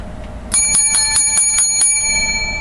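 A bicycle bell rings in a quick series of about seven bright, metallic dings, close and loud, each note ringing on over a low background hum.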